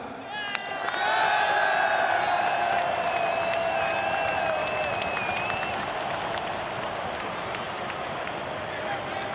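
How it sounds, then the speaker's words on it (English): Stadium crowd at a World Cup qualifier, Australia versus Uruguay, applauding and cheering the team in a sustained, loud wash of clapping and shouts, with whistle-like tones riding over it throughout. "Once more, a huge applause for these guys."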